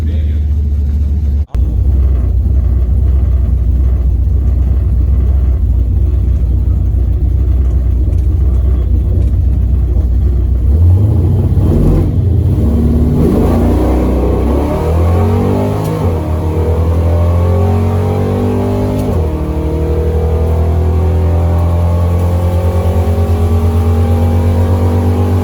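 A hot rod makes a drag racing pass at World Wide Technology Dragway in Madison, its loud engine idling low before roaring through a burnout and a hard launch, then revving up through three gear changes with a heavy rumble.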